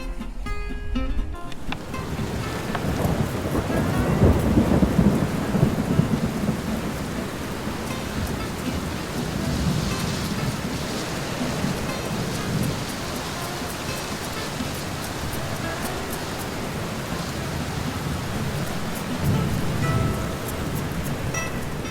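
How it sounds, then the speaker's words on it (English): Steady heavy rain hisses over low rolling thunder on an EnviroScape tabletop model, with a stronger rumble early on, continuous and fairly loud, no voices. "I hear the rumble of thunder in the distance."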